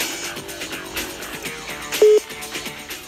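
A Spanish mobile phone call hits a busy line: a steady, repeating busy tone pulses in regular beeps, loud and close, with no talking over it.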